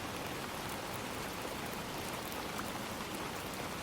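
Steady rain patters densely on a surface, a constant close hiss of drops with no pauses and no voices.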